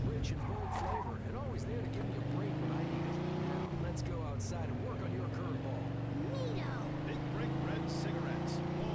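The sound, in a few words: car driving fast past, from video game Mafia 2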